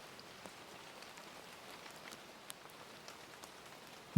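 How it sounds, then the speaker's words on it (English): Soft rain patters steadily against windowpanes, faint and even, with scattered small drops ticking through the hush and nothing else heard. "Rain presses gently against the windows"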